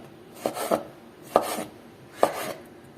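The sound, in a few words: cutting vegetable with a knife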